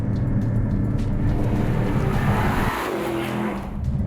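A Mercedes-Benz SL 55 4Matic+ launches hard from a standstill, its engine roaring loud and close with some tire noise, then easing slightly as speed builds.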